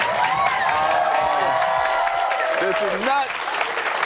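Studio audience applause during a CNN interview, a dense, enthusiastic wash of clapping under overlapping talk and exclaimed voices, fading slightly toward the end.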